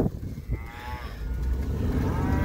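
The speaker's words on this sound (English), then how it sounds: "Anyway, to get the cows out." Cattle low and moo repeatedly at close range in a rural campsite setting, with layered, overlapping bellows building into a steady herd chorus over low rumbling background noise.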